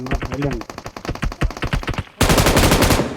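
Rapid automatic gunfire from the BGMI mobile battle royale game breaks out loud and dense in the second half, right after a stretch of someone talking excitedly.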